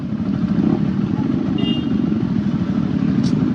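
A motorcycle rides along a muddy rural road, its engine droning steadily and close for a few seconds with a faint rattle of the bike over rough ground.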